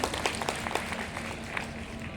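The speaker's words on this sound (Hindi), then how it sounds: "अब एक बार मुझे ताली बजाकर आदेशित कर दें तो मैं शुरू कर देता हूं।" An audience at a Hindi poetry gathering claps together, a moderate crowd's steady patter of applause under a faint electrical hum, with a few louder hand claps standing out.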